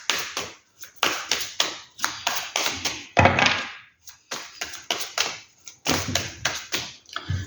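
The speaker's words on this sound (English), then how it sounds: "Too many cards, let's keep shuffling." Tarot cards being shuffled, a brisk series of papery riffles and taps in quick bursts with short pauses, close and fairly soft, with no talking.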